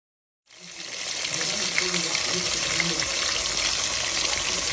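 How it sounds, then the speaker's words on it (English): Water pours steadily into a pot of pork chile verde, starting abruptly after a brief silence and continuing as an even, rushing gush to the end. "We're going to go ahead and add water up to the middle."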